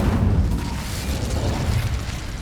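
Incendio fire spell cast in Hogwarts Legacy: a continuous roaring, crackling blast of flame that sustains throughout, fairly loud and alone.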